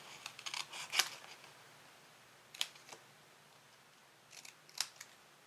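Scissors cut around a paper label for a candle or jar display, giving three brief, crisp snipping clusters spaced a couple of seconds apart against a quiet background.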